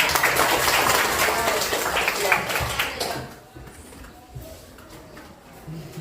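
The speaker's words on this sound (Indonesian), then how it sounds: "Tepuk tangan." Classroom applause from a group of students, a dense burst of clapping that runs for about three seconds and then stops, leaving quiet room noise.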